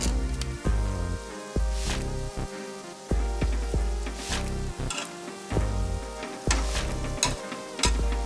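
Dough dropped into hot oil for frying, a continuous bubbling sizzle with sharp ticks and pops, broken up by irregular bursts and brief lulls, heard close up over a steady musical hum.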